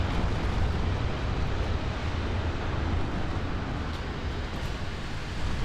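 A torpedo strikes a warship in the naval battle game Ultimate Admiral Dreadnoughts, a sustained deep rumbling roar that stays loud and steady throughout with no voices.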